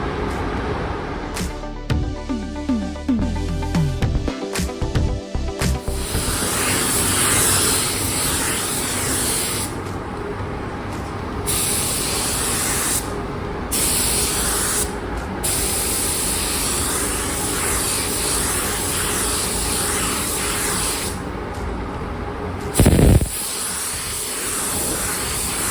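A spray gun applying clear coat to the fairing of a Honda CBR600 F3 during a restoration: long, loud, close bursts of airy hiss with brief pauses between passes, starting after some clatter. A short thump sounds near the end.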